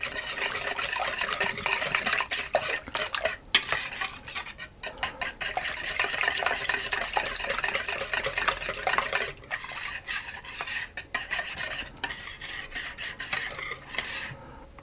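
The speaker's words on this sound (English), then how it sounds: "And I'm going to add in my sugar as well. And I'm going to whisk those around." Sugar being whisked in a bowl for hot cross muffins, a steady gritty scraping and stirring that runs on continuously, close and fairly loud, with no talking.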